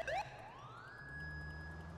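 A police car siren in GTA 4 wails with a rising, sustained electronic tone over steady engine rumble, loud and close, with no talk.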